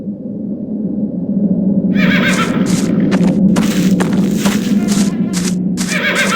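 A horse in the video game The Black Mirror whinnies in a long, shaky neigh over a low steady rumble, with faint hoof thumps, close and clear.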